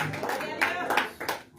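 A church congregation claps during a sermon, a few uneven bursts of hand claps mixed with voices over a brief stretch.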